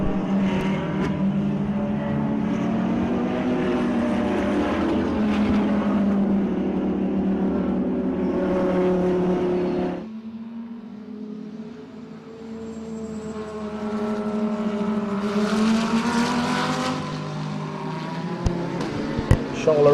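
Supercars in a Lamborghini Trofeo, BMW and Porsche field roar past at an Extreme Supercars heat, a steady loud engine drone that dips for a moment before building again with high revving, while a commentator talks over it.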